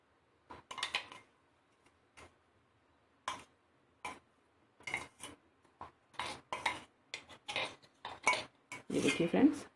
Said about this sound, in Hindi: इमली हमने मिक्स कर दी है इसमें